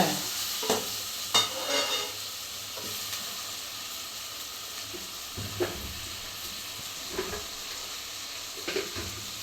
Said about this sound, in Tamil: இப்போதைக்கு தக்காளிலாம் நல்லா வதங்கட்டும்